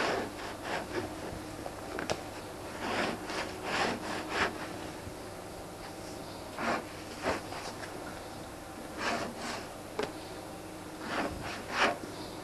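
A fur hide being scraped by hand at a bench, heard as repeated rough rasping strokes in irregular bursts, close and moderately loud, with short pauses between groups of strokes.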